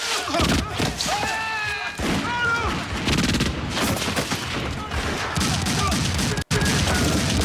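Bursts of gunfire crackle through a busy action scene from the film The Crow, mixed with thuds, music and shouting voices, loud and nearly continuous.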